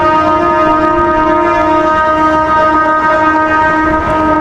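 A local passenger train on the Bihar Sharif to Rajgir line sounds close by, its horn blaring a loud, steady, multi-toned blast for several seconds.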